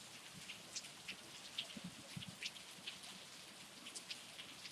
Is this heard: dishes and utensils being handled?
no